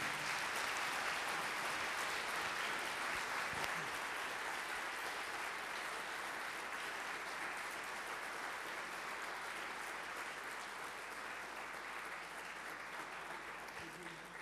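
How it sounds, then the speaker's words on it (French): Warm, sustained applause from a lecture audience for the speaker after a talk on the TRAPPIST-1 planets, a broad, even clapping texture that stays fairly distant and soft and slowly thins toward the end. "je pense qu'on peut encore applaudir chaleureusement notre conférencier"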